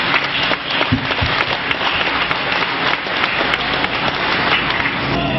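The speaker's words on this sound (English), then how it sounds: "So I'd like to acknowledge the associates by just giving them an applause at this time" Applause for Walmart store associates at an evening community gathering, steady dense clapping from a crowd filling the whole stretch at a constant loud level, with no break.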